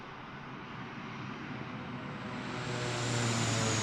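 Steady propeller-engine drone of a DC-3 airliner in Microsoft Flight Simulator 2024 during a botched barrel roll, a broad continuous roar that swells louder toward the end, with no talk over it.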